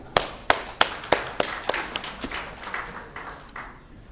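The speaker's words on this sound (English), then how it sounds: "Let's follow that with a round of applause." At a national Muslim conference gathering, a small group claps near the microphone in a quick, regular series of sharp hand claps that gradually soften and trail off after about four seconds.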